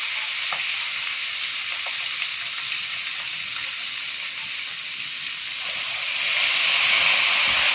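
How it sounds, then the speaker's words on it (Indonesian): Chicken pieces, boiled first, sizzle steadily in hot oil for soto ceker, a continuous close crackling fry that swells slightly louder near the end, with no talking. "Ini ayamnya kita goreng"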